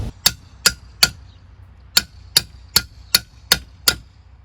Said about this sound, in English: As you hammer out this pin